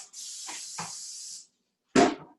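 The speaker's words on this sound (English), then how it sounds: "you spray it lightly with some canola" Canola oil is sprayed lightly into a ramekin in a kitchen: a steady close hiss of about a second and a half, then a short sharp burst after a pause.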